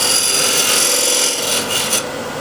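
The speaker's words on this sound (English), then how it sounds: "With a skew, I'll just undercut for the dovetail jaws." Skew chisel undercutting a dovetail recess in a wooden platter spinning on a lathe: a steady, close rasping scrape that runs continuously, easing slightly near the end, with no talking.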